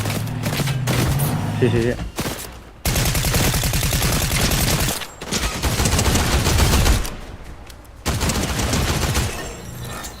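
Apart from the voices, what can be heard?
gunfire in the video game Fortnite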